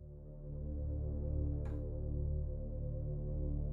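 A soft, sustained low synthesized string tone with a slow attack that swells gently rather than starting sharply, holding steady with slight fluctuations and a brief faint hiss.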